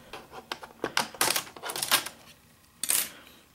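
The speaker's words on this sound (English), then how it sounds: "All you do is you pry up using your fingernail this little strip of plastic." A plastic strip on a Toshiba Satellite 105CS laptop is pried up with a fingernail, giving a quick run of close, sharp clicks and snaps, then a pause and one last crisp snap.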